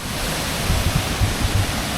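Waterfall cascading over rock tiers at the Elephant falls, a steady loud wash of rushing water close by, with no voices.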